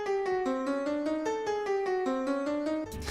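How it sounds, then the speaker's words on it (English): Plain synthesized tones from a MIDI file play back in music notation software, a rapid string of short, evenly spaced notes hopping between pitches with no melodic sense, steady and clear with no voices. "it just sounds like this atonal garbage."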